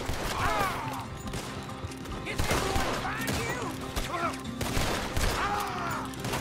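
Gunfire in Red Dead Redemption 2 during a street chase, a fusillade of close shots in bursts alongside hoofbeats and shouting voices, with people talking over the action.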